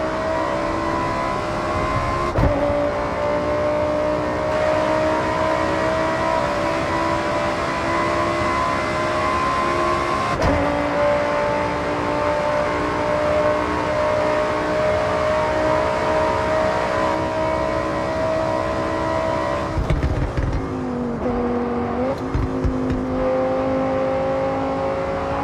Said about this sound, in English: A V10 has its own sound